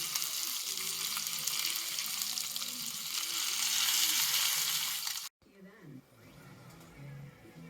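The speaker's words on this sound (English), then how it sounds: "Now we butterflied them and we're just split them into half, getting a nice little sear on them" Butterflied beer-marinated sausages sear in a pan on a wood stove in a winter cabin, giving a steady close sizzle and frying hiss that breaks off briefly near the end, with voices talking quietly underneath.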